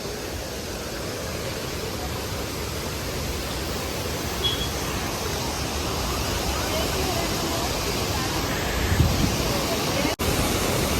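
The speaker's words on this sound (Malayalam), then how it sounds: "ആ പാലത്തിന് മുകളിൽ ഈ കാണുന്ന വെള്ളച്ചാട്ടം നല്ല വ്യൂ ആയിരിക്കും കേട്ടോ." A waterfall near a bridge on the road back from Malakkappara toward Kochi roars as a steady, dense broadband rush that stays even and unbroken throughout, heard from some distance.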